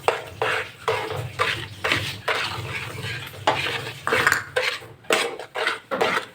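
Sugar stirred into ghee in a kadai for almond halwa: a spoon scrapes the pan in a quick, repeated rhythm of short strokes over a faint sizzle.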